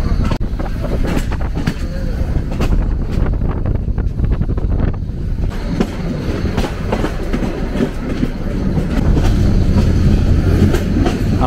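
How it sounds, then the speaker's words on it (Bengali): The Kishoreganj Express passenger train runs while overtaking the Dhaka–Sylhet Jayantika Express, giving a continuous loud rumble with wind buffeting and rhythmic wheel clacking throughout, with no talk. "আমাদের ট্রেন এই মুহূর্তে ওভারটেক করছে ঢাকা সিলেট জয়ন্তিকা এক্সপ্রেসকে"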